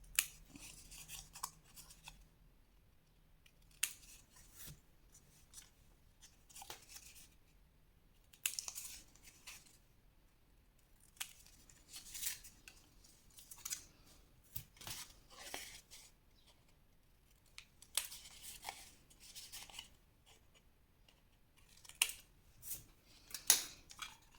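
Scissors snipping paper for a pop-up scrapbook page, with short crisp cuts in scattered clusters separated by quiet pauses, close up and with no talking.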